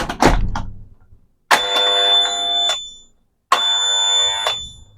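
An electronic door lock's buzzer gives two long, loud electronic beeps, each about a second long and separated by a brief gap, after a short burst of handling noise at the start.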